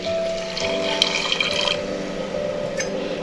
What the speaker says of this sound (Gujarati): અડધો કપ પાણી ઉમેરીએ છીએ।